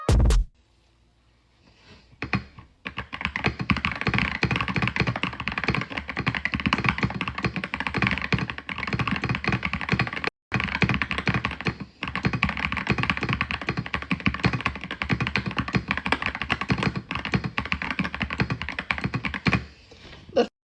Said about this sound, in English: That's me typing for real.